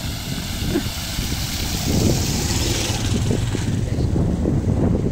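A raised tricycle's motor drones as it pushes through knee-deep flood water on a rain-swamped street, the engine and churning water steady and fairly close, with wind noise buffeting the microphone.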